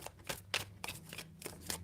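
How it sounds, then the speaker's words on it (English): Tarot cards being shuffled in short, soft riffling bursts, a few quick passes close up and quiet, with no one talking. "3 shuffles"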